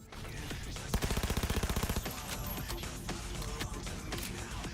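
Rapid automatic gunfire from a gun in Cyberpunk 2077, one burst of about a dozen evenly spaced shots, loud and close, then scattered single shots over a busy game soundscape.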